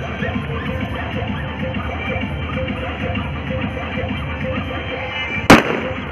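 A firecracker bursts suddenly with a single loud, sharp bang near the end, after several seconds of steady outdoor background noise.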